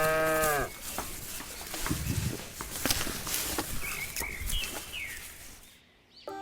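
A sick cow on a dairy farm gives one short, clear moo at the start, followed by a busy, noisy outdoor background with faint bird chirps.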